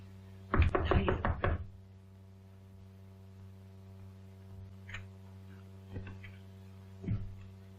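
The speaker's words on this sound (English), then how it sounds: "I thought I heard a knock." A quick cluster of firm knocks on a door sounds over a steady mains hum, followed by a few faint, spaced taps.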